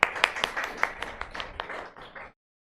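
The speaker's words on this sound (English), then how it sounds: "You all should clap for him." A classroom claps for a student after his answer during a capital gains tax revision lesson, a brief burst of scattered handclaps from a small group that tapers off after about two seconds.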